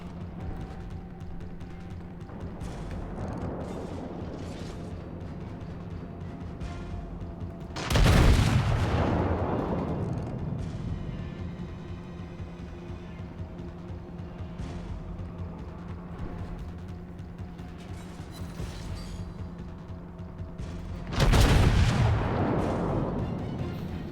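Heavy naval gun salvos from the USS Colorado battleship in World of Warships, two loud booming broadside volleys several seconds apart, each with a rolling decay over a steady background of engine and sea ambience.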